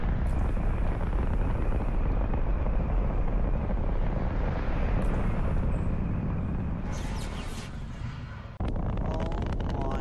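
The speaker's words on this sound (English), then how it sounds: "I hear the missile. Oh, it's coming out! It's coming out! The missile's coming out!" A rocket launches in Fortnite Battle Royale with a loud, sustained roaring rumble that holds steady for most of the stretch, then thins and drops off near the end, followed by a sharp clatter.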